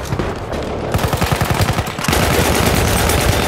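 A machine gun lays down suppression fire in Battlefield 1, shown as a loud, close burst of rapid, evenly spaced shots. Heavier sustained gunfire and battle noise follow and continue at high level.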